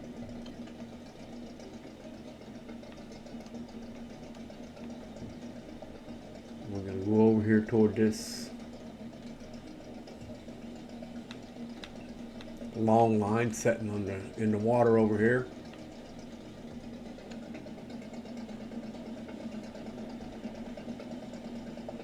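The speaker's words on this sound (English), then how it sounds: "Boat sounds like it's on its last leg, but we're getting there." A struggling fishing boat engine in the Barents Sea fishing simulator game drones and vibrates steadily throughout, with someone speaking over it in two stretches.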